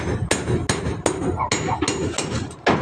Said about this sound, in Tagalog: Nagbubunot siya ng pako.